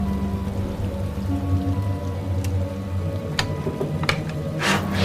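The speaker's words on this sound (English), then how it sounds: "Rain's getting heavier." Heavy rain pours steadily in a constant dense hiss, with occasional sharper drips and spatters over a low background rumble, and no voices.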